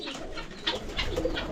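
Soft cooing of doves mixed with other birds outdoors, several short coos rising over a faint background, fairly distant and quiet.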